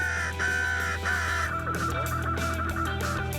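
Crows caw repeatedly during a winter crow hunt in Quebec, a series of harsh calls of mixed distance over a steady low hum.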